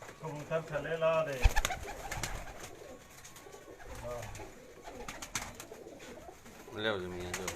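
Breeder pigeons at a home in Jalalpur Bhattian coo in soft, repeated throaty bursts at close range, mixed with people talking and some handling noise.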